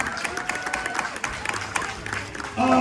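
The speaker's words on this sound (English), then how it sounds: "big round of applause for your Six Flags America Stunt Team" A large crowd at an amusement park stunt show applauds steadily, a dense wash of clapping that holds throughout and swells slightly at the end.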